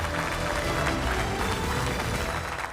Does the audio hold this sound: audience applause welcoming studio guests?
yes